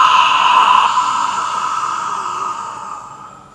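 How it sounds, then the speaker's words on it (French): A long, sustained breathy exhalation during a vocal warm-up, close and steady, a soft airy hiss that slowly fades over about three seconds. "expire de façon soutenue, histoire de propulser l'air, de sentir comment l'air sort de ton corps"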